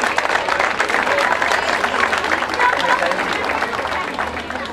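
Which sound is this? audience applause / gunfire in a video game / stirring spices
audience applause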